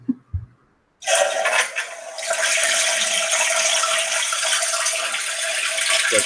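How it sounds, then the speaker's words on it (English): A toilet flushes with a click of the handle, followed by a loud, steady rush of water that holds on for several seconds, close and alone. "That toilet flushing?"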